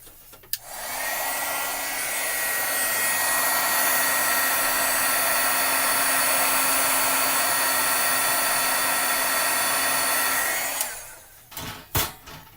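A crafting heat tool blows hot air to melt embossing powder on a card, a steady loud whirring drone that starts abruptly, runs about ten seconds, then shuts off, followed by a few handling knocks.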